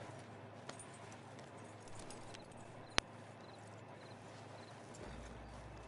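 Gentle horse hooves clip-clopping in Red Dead Online, faint and rhythmic over a low hum, with a single sharp tick partway through.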